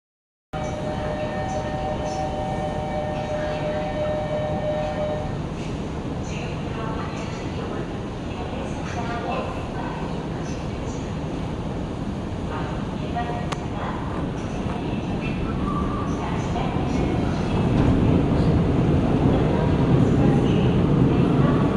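A Seoul subway train rides toward Yeouido, giving a steady rolling rumble and hum that runs throughout and swells louder near the end.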